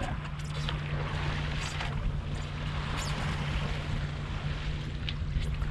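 A sailboat runs on a broad reach across Lake Michigan, with a steady rush of wind and water against the hull, a low constant hum underneath and occasional gusts buffeting the microphone, with no voices.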